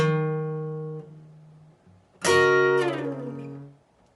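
A guitar plays the opening of a song's intro slowly: a low sustained note fades out, then a bright strummed chord rings out and decays, with no voices.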